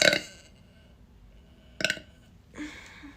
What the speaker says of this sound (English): Can I burp on command?